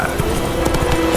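Roach, Geralt's horse in The Witcher 3, gallops along, hooves pounding in a quick, loud, close clip-clop rhythm with no voices over it.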